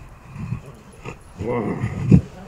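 A dog whimpers and whines in short bursts during a reunion after six months apart, its cries close and moderately loud, with a voice talking over parts of it.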